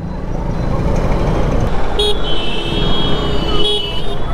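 Road traffic in a market area of India rumbles loudly nearby while a couple of car horns toot briefly over the steady engine noise.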